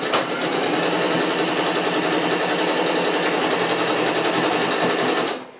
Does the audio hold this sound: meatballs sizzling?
no